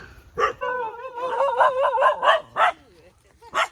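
Several dogs bark and yip in short bursts at close range, with whiny howl-like tones between the barks.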